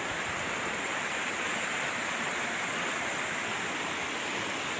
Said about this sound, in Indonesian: ada jembatan, ada sungai di bawah.